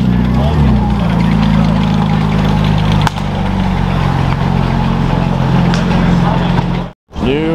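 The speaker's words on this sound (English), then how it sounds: "New Mclaren Artura being parked up." A new McLaren Artura idles with a steady low engine drone while being parked, a brief click near three seconds and the sound cutting out sharply just before the end, with no voices.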